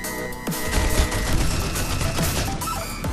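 Gunfire in the mobile shooter Critical Ops, dense bursts of shots with crashing impacts and a booming low end, loud and continuous over game noise.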